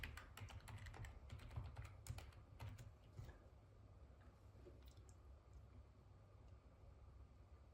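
Password typed on a computer keyboard: a quick run of soft, faint key clicks for about three seconds, then near silence with a couple of isolated taps.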